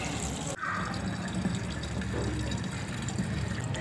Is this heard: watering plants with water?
yes